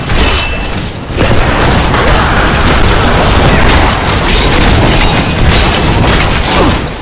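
Explosions in the video game Diablo III, played with a hardcore necromancer character: a dense, loud roar of booming blasts and crackling bursts that runs almost without a break.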